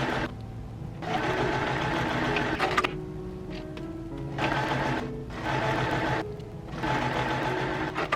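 A sewing machine stitches a dress seam with a 3/8 inch seam allowance, running in steady bursts of rapid mechanical whirring separated by short pauses, close and clear with no talking.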